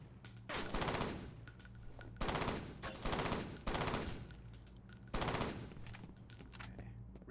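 Battle rifle gunfire from the shooter F.E.A.R. (2005): several loud bursts of automatic fire in quick succession, each lasting about a second, with brief gaps between them and no talk.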